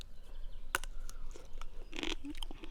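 Someone bites into a crunchy mini cucumber that looks like a tiny watermelon, giving a sharp close crunch followed by quieter chewing against background noise.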